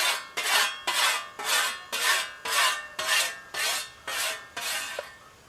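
A whetstone hones a scythe blade edge in about ten rhythmic rasping strokes, each a close, loud gritty swipe with short pauses between.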